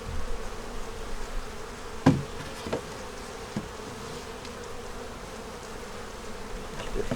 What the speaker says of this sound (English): Got little bees on the top there.